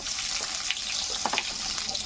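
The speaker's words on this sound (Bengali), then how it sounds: "পেঁয়াজ কুচি দিয়ে দেবো," Chopped onion hits hot oil in a pan with dried red chilli for a Malabar spinach, pumpkin and fish head chorchori, giving a close, steady bright sizzle with a few crackling pops, no voices.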